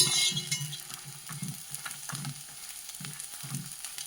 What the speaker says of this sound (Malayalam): മുളക് മൂക്കുമ്പോൾ ഇങ്ങനെ വലുതായിട്ടങ്ങാകും.